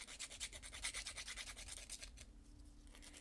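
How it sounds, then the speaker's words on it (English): A sanding stick rubs back and forth in quick, regular strokes, close and soft, about a dozen passes before slowing and fading into lighter scraping. "I'll just use a sanding stick here."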